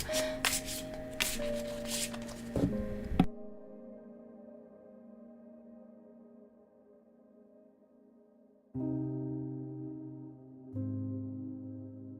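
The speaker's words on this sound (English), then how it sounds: "I'm just fixing the cards, I'm shuffling the cards and prepping the cards" Tarot cards shuffled close by, a dense riffling patter for about three seconds, then a quiet low hum with soft tones and no talking.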